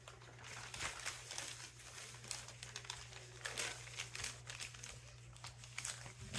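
Paper crinkling and rustling at close range as it is handled and placed for a fabric image transfer, soft irregular crackles over a low steady hum.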